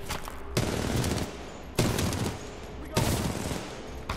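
Bursts of automatic weapon fire in Titanfall 2 come in three loud, dense volleys separated by brief gaps, mixed with game ambience and noise.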